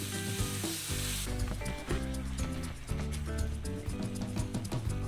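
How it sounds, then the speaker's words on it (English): Ground beef sizzles steadily in an oiled pan, a continuous frying hiss sitting beneath loud background music throughout. "we'll oil the pan that we just used to cook the ground beef, and you want to make sure to cook that completely through"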